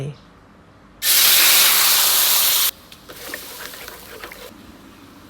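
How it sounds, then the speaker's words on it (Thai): A loud, sudden burst of hissing sizzle for under two seconds as coconut cream hits a hot pan, then a quieter crackling simmer. "ตั้งกระทะใส่หัวกะทิลงไป"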